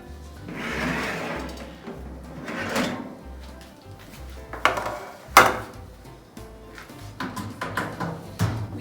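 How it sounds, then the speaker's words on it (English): A tray of baked whole wheat saffron almond cookies is taken out of an oven, with a series of quiet clunks, scrapes and metallic rattles spread across the scene. "Let's remove it from the oven."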